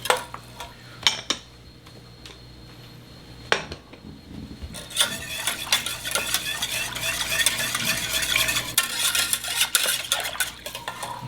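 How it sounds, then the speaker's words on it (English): Spoon stirring béchamel sauce in a pot at a light simmer, with scattered scrapes and taps at first, then a steadier dense scraping and rustling as the stirring continues, no talking. "Just every now and then give it some stirs."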